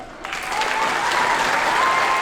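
Audience applause for an award winner at a middle school band spring concert, a steady wash of many hands clapping in a hall, holding at an even level throughout.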